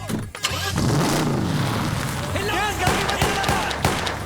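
An automatic car's engine turns over and catches in a film action scene, a close rumbling start with sharp mechanical bursts and clatter, while agitated voices shout over it.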